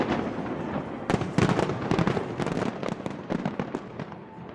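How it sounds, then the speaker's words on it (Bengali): New Year's midnight fireworks burst across the sky in a dense, continuous barrage of crackling pops and booms, rising sharply after the first second and rolling on at a distance. "ঘড়ির কাঁটায় রাত 12টা বাজতেই আতশবাজি আর আলোকসজ্জায় ছেয়ে গেছে পুরো আকাশ"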